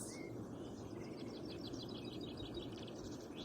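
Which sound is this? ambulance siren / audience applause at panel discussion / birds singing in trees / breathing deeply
birds singing in trees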